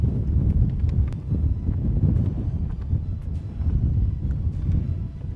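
Wind buffets the microphone on a golf course at a very hard par 3, a steady low roar with a few faint rustles and ticks in it and no voices.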